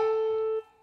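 A single sustained musical note is played as a quarter note in a children's rhythm lesson, holding steady for about one beat before cutting off cleanly, loud and alone with no talking.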